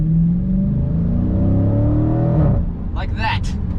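Dodge Hellcat and Scat Pack launching side by side from a stop light, a loud roaring engine drone climbing in pitch as they accelerate hard, then a sharp burst of higher revs near the end, with some talk underneath.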